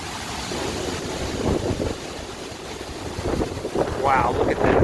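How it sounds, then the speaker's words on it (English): Hurricane Isaias winds gust through a residential neighborhood, roaring and buffeting the microphone in surges that swell and ease, with people talking briefly in between. "Here's a good gust."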